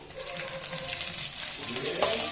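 Cashews, cumin seeds and finely chopped ginger frying in hot oil in a pan for savoury pongal, a continuous close sizzle with a little stirring.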